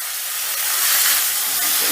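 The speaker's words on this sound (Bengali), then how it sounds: "এবারে আদা রসুন আর টমেটোটা বেশ ভালো করে কষিয়ে নেব" Ginger, garlic and tomato masala frying hard in a pan for soybean do pyaza, a steady close hiss and sizzle with no talk.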